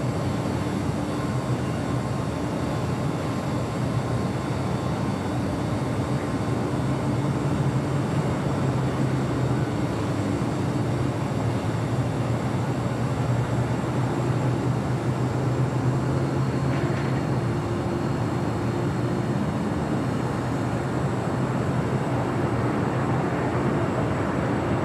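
A heavy Antonov AN-124 cargo aircraft at LAX near runway 25 left, heard as a steady broad distant engine roar with a low rumble, continuous and fairly even throughout.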